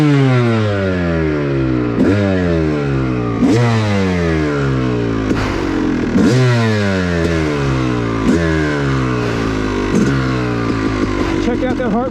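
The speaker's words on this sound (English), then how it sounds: "Full throttle after you fall over. Flooded bike." A flooded dirt bike engine is held at full throttle on an OHV cycle trail after a fall, revving hard and loud up close in repeated rising sweeps roughly every one and a half seconds.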